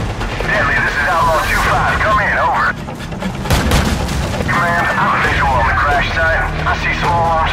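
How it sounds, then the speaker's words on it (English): Small arms gunfire rattles through a firefight in Call of Duty 4: Modern Warfare, steady bursts under continuous battle noise, with a voice speaking over it throughout. "I see small arms fire coming from the cockpit."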